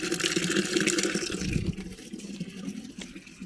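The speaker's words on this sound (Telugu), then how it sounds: "నీళ్ళైతే పడుతున్నా." Water pours for a cow, a splashing, gurgling stream that is loudest at first and then settles into a softer, steady trickle. It is close and heard alone.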